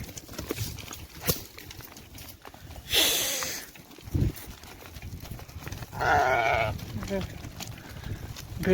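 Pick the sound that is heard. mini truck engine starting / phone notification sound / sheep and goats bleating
sheep and goats bleating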